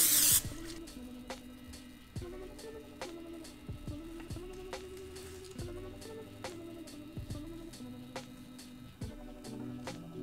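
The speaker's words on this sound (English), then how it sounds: "Just gonna spray with some nonstick cooking spray." A short hiss of nonstick cooking spray right at the start, followed by a low steady hum with faint regular ticks.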